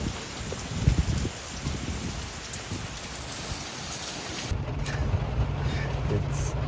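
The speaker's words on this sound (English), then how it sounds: "Still raining." Steady rain pours down after Hurricane Beryl, a dense hiss of drops close by, with a low rumble underneath and a quieter patch near the end.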